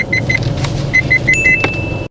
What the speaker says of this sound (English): You can hear the alloy wheel scraping along the curb.